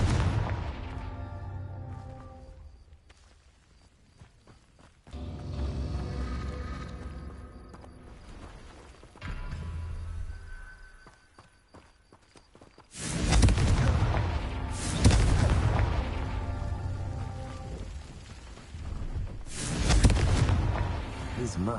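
Fire-spell blasts from the Confringo spell in the video game Hogwarts Legacy boom repeatedly in loud bursts, each followed by rumbling decay, with heavier explosions toward the end and a voice talking between them.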